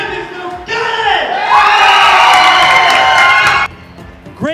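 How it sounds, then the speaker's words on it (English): A crowd at a high school esports championship erupts into loud cheering and whooping with some clapping, sustained for about three seconds before cutting off abruptly. "There's that loud round of applause."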